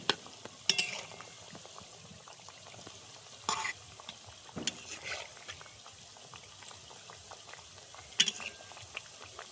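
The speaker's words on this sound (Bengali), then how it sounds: "উল্টে পাল্টে কিন্তু লাল লাল করে ভেজে নিতে হবে" Thekua dough pieces frying in hot oil, a steady soft sizzle with occasional sharp clinks and scrapes as the pieces are turned over, close and fairly quiet throughout.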